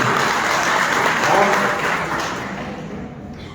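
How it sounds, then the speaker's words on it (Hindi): Loud applause from an audience welcoming a guest onto a stage, a dense wash of clapping that holds steady and then gradually fades away. "मंच पर आने वाले हर मेहमान के लिए तालियां बजाएंगे, जोरदार तालियां ऐसे"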